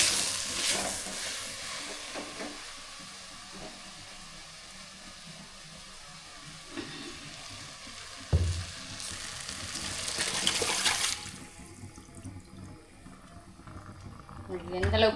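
Turkey berries (sundakkai) sauté in a pan for a kuzhambu, giving a steady close sizzle and frying crackle with stirring noises, one louder burst midway, and a voice speaking over it.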